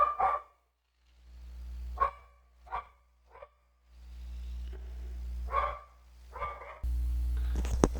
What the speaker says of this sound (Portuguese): Deixa eu fazer uma pausa aqui por causa do cachorro latindo.